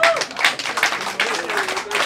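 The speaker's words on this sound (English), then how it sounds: "let's give Andrew Yang a big applause again to support him" An audience at a campaign event for Andrew Yang's 2020 presidential run claps in a short, uneven burst, with distinct hand claps rising and falling and a few voices underneath.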